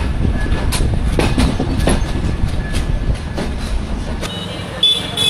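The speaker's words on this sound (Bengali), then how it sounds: "রাতের ট্রেন সীমান্ত এক্সপ্রেস ট্রেনে" The Shimanto Express night train rolls along with a loud, close clickety-clack of wheels over rail joints, punctuated by a horn toot near the end.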